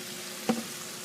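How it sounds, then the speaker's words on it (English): Chicken frying in hot oil, a steady soft sizzle and crackle at moderate distance with one brief louder pop or clink midway, no talking. "It will take time for the chicken to fry."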